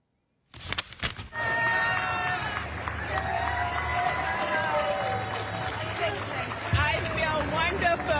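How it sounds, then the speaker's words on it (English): Office staff gather to cheer, clap and celebrate as a reinstated colleague returns to work at the NLRB. A loud, sustained crowd roar of cheering and clapping follows a sudden start and continues throughout, with voices and shouts mixed in. "the whole dang office came out to cheer for her and clap and celebrate"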